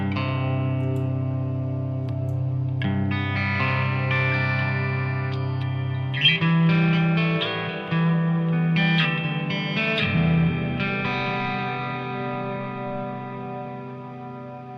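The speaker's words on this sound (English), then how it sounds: "I usually have it on the reverb setting." Electric guitar chords ring out through a reverb pedal's heavy reverb setting, sustained notes washing and decaying with a lush, spacious tail.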